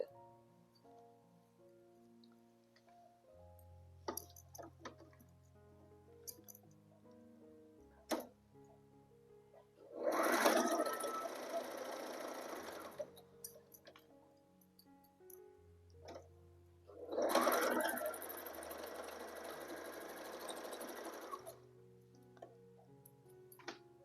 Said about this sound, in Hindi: इस तरह से साइड से सिलाई लगा लिए।